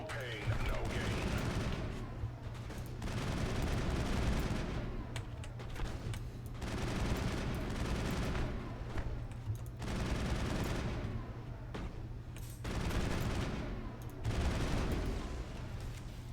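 Rapid bursts of gunfire from the video game Mass Effect, repeated volleys separated by brief lulls over a steady low hum, with a voice talking at points.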